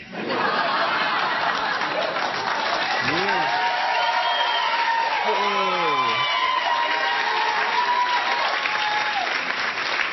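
A television studio audience breaks into loud, sustained applause and cheering under a late-night comedy monologue, with scattered whoops and a voice speaking over the clapping throughout.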